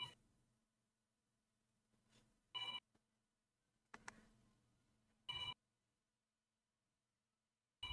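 A mobile phone rings in short bursts, three loud chimes spaced a few seconds apart in an otherwise quiet room, with a little faint movement between them.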